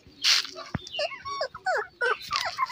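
Hyperactive Beagle, Shih Tzu and Golden Retriever puppies at morning play give short whimpers and high yips in quick bursts, close and moderately loud, with brief pauses between cries.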